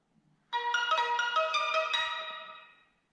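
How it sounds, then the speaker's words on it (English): A phone chimes with a notification from Home Assistant and Telegram: one clear, sustained ringtone-like melodic tone, fairly loud and close, fading out over about two seconds with nothing else under it. "I've received a notification from Home Assistant and a message from Telegram"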